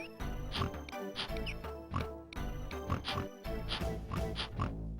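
Pigs oinking in The Settlers strategy game, a run of short grunts and snorts repeating in bursts over game music and ambience.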